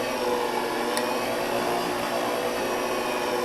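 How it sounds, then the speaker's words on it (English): An electric mixer runs on its slow setting while egg whites and yolks are mixed for bread, giving a steady, loud, continuous whirring hum with no pauses and no talking. "we're going to turn the mixer on slow"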